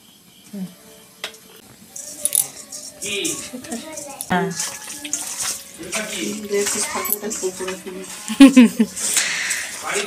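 Water running from a tap into containers in a home kitchen, splashing and gurgling under frequent talk with occasional clinks of pots and vessels.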